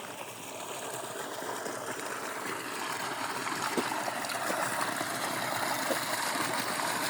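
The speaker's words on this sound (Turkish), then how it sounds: "Sultanalı bulağının suyu. Buradan gelir yavaş yavaş." Water from the Sultanalı spring in Yuxarı Veysəlli flows slowly in a steady, moderately quiet wash and trickle that continues unbroken with no voices.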